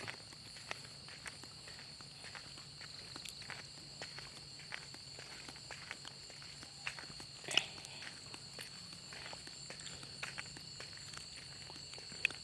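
Footsteps walking outdoors at night in a rural village yard where solar-powered lights are being installed, a steady series of soft, fairly faint steps over a constant background hum, with one sharper knock partway through.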